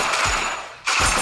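Gunfire from a GTA video game comes in two short rapid bursts separated by a brief lull, loud and close, with no talk.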